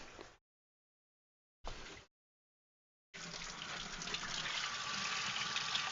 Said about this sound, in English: I will rinse these two mops